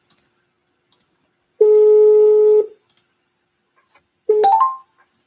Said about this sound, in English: Let's go ahead and give Rouse a call here